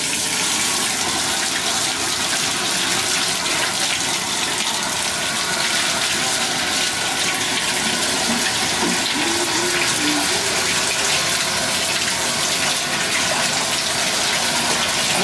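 Water running steadily from a tap into a bathtub for a small dog's bath, a loud, continuous gushing rush that never breaks.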